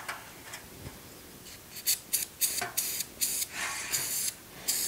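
Short bursts of aerosol spray hiss in quick succession, some brief and some longer, close up against a quiet background, sprayed at the Kohler carburetor of a 27hp Emark Lazer Z mower engine.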